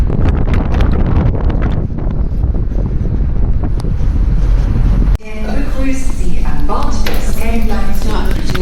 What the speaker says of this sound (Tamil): எக்கச்சக்கமாக காற்றடிக்குது கையில் இருக்க அலைபேசியெல்லாம் தள்ளி விடுதுங்க